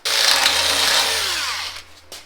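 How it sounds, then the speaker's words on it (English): A power drill bores new holes through a truck frame, one loud sustained whine under load that tapers off near the end, with a brief burst just after. No talking. "so let's drill these new holes."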